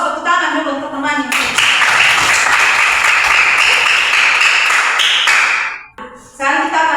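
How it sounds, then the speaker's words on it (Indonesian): Students in a classroom clap for a classmate, with a loud, dense burst of applause lasting several seconds between stretches of talking before and after. "Kita kasih aplaus, tepuk tangan dulu untuk temannya."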